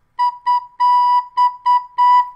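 A fifth grader plays one recorder note six times in short articulated bursts, one held longer, with a clean, steady tone, close and clear, no voices.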